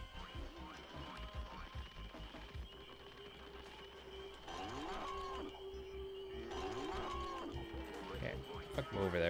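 Cows moo in Spyro Enter the Dragonfly, several long, drawn-out lowing calls over game effects and thumps, with someone talking over them at times.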